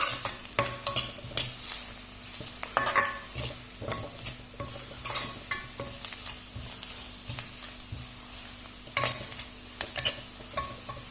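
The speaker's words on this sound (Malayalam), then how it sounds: "തക്കാളി ഇട്ട് വഴറ്റും" Tomato sautés with turmeric and pepper powder in a pan for chilli chapathi, a steady sizzle under frequent spoon scrapes and stirring knocks against the metal, close and clear, with no talking.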